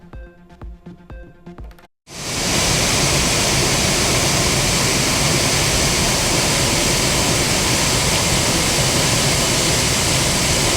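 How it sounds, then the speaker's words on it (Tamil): Floodwaters pour over the Courtallam waterfalls in Tenkasi district after continuous rain, a loud, steady, roaring rush that fills the whole clip after a short burst of music at the start. "தென்காசி மாவட்டத்தில் பெய்த தொடர் மழையால் குற்றால அருவிகளில் வெள்ளப்பெருக்கு."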